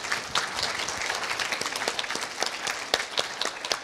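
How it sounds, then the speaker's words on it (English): Audience applause at a palliative care panel discussion, a moderate round of clapping with scattered sharper claps standing out, steady for a few seconds. "Would you give her a round of applause?"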